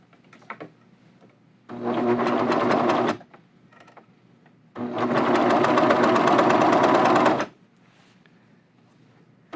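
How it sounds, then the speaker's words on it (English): Serger overlock machine sewing along a fabric edge: two sustained bursts of fast mechanical whirring, the second longer, with brief quiet handling between them. "So I'm going to serge, and that angle just now got cut off."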